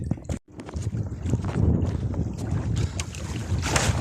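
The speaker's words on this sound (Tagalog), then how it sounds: "kasi mahangin" Gusty wind rushing across the microphone out on open water, with a boat's churn underneath after a brief dropout at the start.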